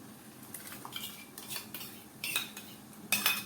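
A spoon stirs curd into a spinach and green pea curry, clinking and scraping against the metal pot in short, irregular bursts that grow louder toward the end.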